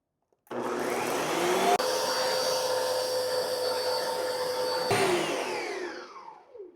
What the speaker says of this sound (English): blend everything on high speed until smooth and creamy